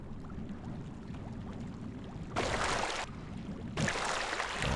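Water in the Thief Gold game level Into the Maw of Chaos, heard as a steady low lapping and sloshing that twice swells into louder rushing bursts of splashing, close and continuous, with no talk.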